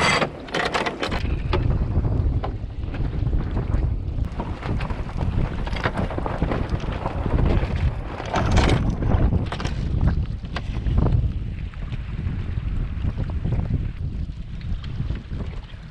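Sailboat with no engine tacking into a southwest wind through a town cut, heavy wind buffeting and water rush throughout, with occasional creaks and rattles of rigging and gear, loud and continuous.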